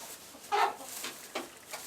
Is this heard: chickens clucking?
yes